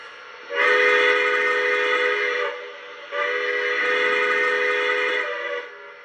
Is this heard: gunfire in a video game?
no